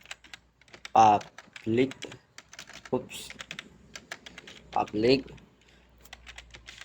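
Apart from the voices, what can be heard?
typing code on computer keyboard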